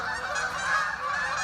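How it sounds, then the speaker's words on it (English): Hundreds of geese in a large flock honk continuously, a dense overlapping chorus of calls that stays steady and fairly loud throughout, with no talk. "That's a couple hundred geese right there."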